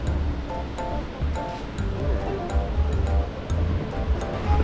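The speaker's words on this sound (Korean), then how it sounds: "확실히 파도가 크네요" Large ocean waves break on a beach in Bali, a steady rushing surf roar with rolling swells heard from a moderate distance and no talk over it.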